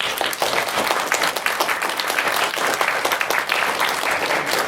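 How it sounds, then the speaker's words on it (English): An audience at a student newspaper's EU referendum debate applauds the organising team, a dense, even burst of many hands clapping close by that holds steady throughout. "can I ask you to give them a round of applause?"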